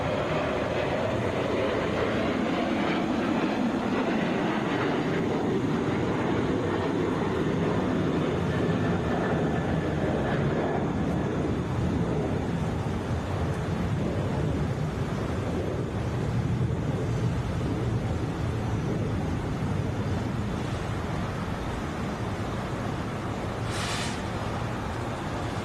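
A Delta Airbus A321 airliner arriving from Minneapolis touches down at Atlanta, a continuous broad roar of engines and rushing air heard from a distance, steady throughout.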